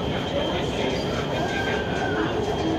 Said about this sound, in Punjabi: ਓਰੰਜ ਟ੍ਰੇਨ ਇੱਕ ਐਸੀ ਜਿਹੜੀ ਟ੍ਰੇਨ ਬਣਾਈ ਹੈ ਨਾ ਨਵਾਜ਼ ਸ਼ਰੀਫ ਸਾਹਿਬ ਹੋਣਾਂ ਨੇ